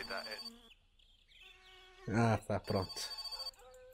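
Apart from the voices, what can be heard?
telephone ringing in video game My Summer Car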